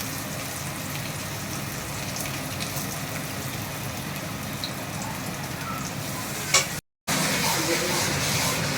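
Spiced chicken being fried and stirred in a wok, a close, steady sizzle with faint scraping that cuts out for a moment near the end before resuming.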